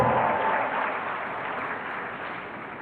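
Ceremony crowd at a university pharmacy oath-taking applauds, a dense burst of clapping that starts loud and eases slightly as it continues.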